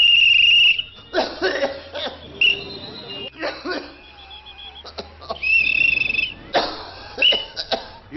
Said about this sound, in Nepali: यो मान्छेले यसरी लगातार खोक्न थाल्नुमा कति भयो?